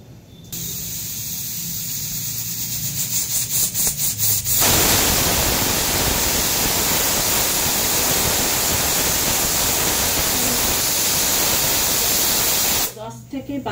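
A pressure cooker with mutton stew releases steam in a loud, steady hissing rush that bursts in after some clicks and clatter and holds strongly before cutting off, with brief scraping sounds at the end.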